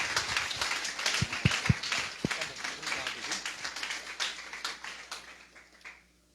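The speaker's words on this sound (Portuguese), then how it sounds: "Aplauda a Deus pela vida do homem de Deus," Church congregation clapping together in steady rhythm, with a few sharper claps standing out, fading toward the end, and a voice speaking over it.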